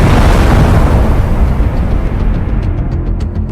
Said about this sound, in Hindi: बालू में दोनों शक्तिशाली बम को दबा दिया गया था और डायनामाइट के जरिए विस्फोट किया गया